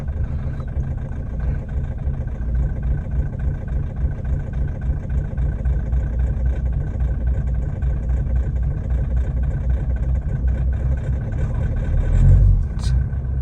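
A Mahindra Thar engine cranking and starting in freezing cold at -30°C in Spiti, a steady loud rumbling drone that runs throughout and swells briefly near the end.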